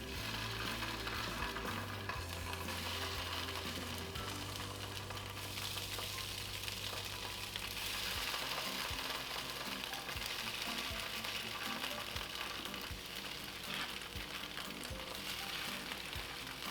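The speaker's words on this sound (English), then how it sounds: "I've got a skillet heating up on medium-high heat, and I'm just gonna put my tofu in here." Tofu strips sizzle and fry in a skillet over medium-high heat, giving a steady, even crackle throughout and a low hum under it during the first half.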